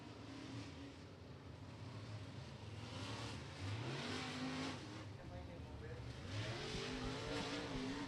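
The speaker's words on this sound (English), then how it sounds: "machine of Chris Meadows coming by." Race car on the front straightaway at Beckley Motor Speedway during hot laps, its engine note rising and falling steadily as it passes, with a commentator talking throughout.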